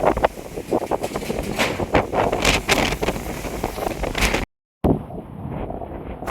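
Strong gusty wind at Metkalgudda Mahaganapathi Temple, Hosangadi, Udupi, buffets the microphone in loud, uneven blasts, briefly cutting out before the roar returns.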